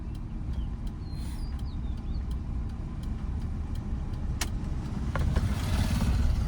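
A car rolls slowly at around 9 to 10 km/h with no accelerator pressed, giving a low, steady engine and road rumble heard from inside, with faint ticking like an indicator and light outside sounds.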